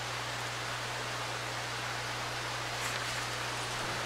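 Steady rain in the survival horror video game Darkwood, a continuous soft hiss with a low hum beneath, unbroken and uniform throughout.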